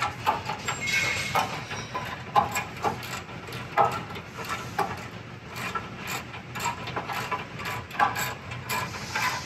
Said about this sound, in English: then we'll go ahead and actually torque these side bolts first